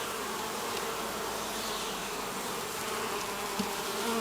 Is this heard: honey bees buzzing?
yes